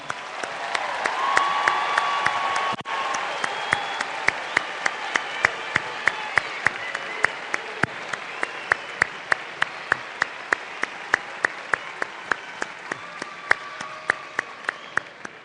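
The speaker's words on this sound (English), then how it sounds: "let's give our graduates one more round of applause" Sustained applause for graduates at a spring university commencement ceremony, with a broad crowd clapping behind sharp, evenly spaced claps close to the microphone that continue for about fifteen seconds.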